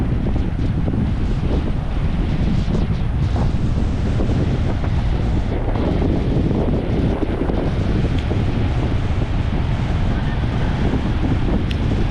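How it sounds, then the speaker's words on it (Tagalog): Heavy wind buffets the microphone over a constant roar of large surf crashing nearby during a storm, loud and continuous throughout. "Lalo doon banda, ang lalaki ng alon."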